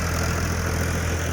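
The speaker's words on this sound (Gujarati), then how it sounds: "એક હારે બે ટ્રેક્ટર રીંગો મારવા ઉતાર્યા." A Mahindra Yuvo Tech 585 tractor engine runs at a steady idle in a farm field, with a loud, continuous low rumble and no voices.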